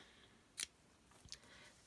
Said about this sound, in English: I'm just going to take my scissors and cut my yarn